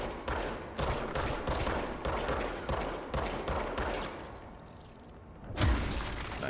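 Rapid bursts of gunfire from a service weapon in the video game Control, a run of sharp, loud repeated shots in quick succession with a brief pause near the end before another heavy blast.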